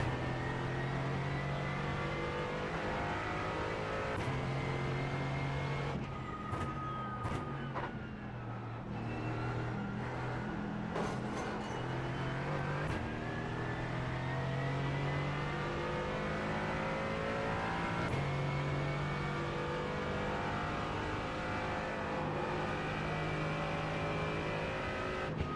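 A GT4 race car in iRacing's Falken Tyre Sports Car Challenge at the Nürburgring: a loud, steady engine drone with shifting pitch as it revs and changes gear, heard alone without talk.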